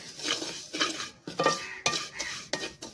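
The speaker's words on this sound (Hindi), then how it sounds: "अब इसको अच्छी तरह से मिक्स कर देंगे ताकि ये अच्छी तरह सारी सेवइयों में मिक्स हो जाए" Vermicelli being stirred in a pan with cardamom powder, a spoon scraping and clinking against the metal in repeated strokes, close and fairly quiet, with no talking.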